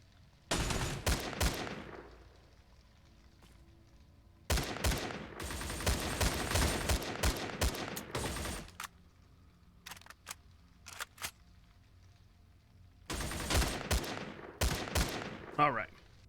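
Heavy exchanges of gunfire in the StalCraft game's Dead City: dense, loud volleys of rapid shots in several long bursts, separated by quieter gaps with occasional single shots, and no talking over them.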